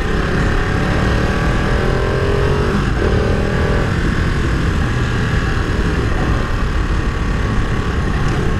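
A Ducati 959 Panigale motorcycle's engine on a superbike ride, a steady loud snarl with continuous roar and wind rush, close and sustained with no pauses.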